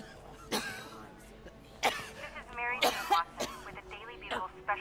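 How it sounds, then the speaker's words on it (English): In Marvel's Spider-Man, a woman coughs hard in several separate bursts, throaty and rasping, each fit spaced a second or so apart, with quiet game sounds in the background. "She's coughing up blood."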